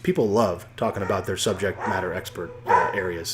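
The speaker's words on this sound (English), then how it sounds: "Sorry for the dogs." Dogs bark and yip in the background, mostly masked by a close voice speaking steadily over them.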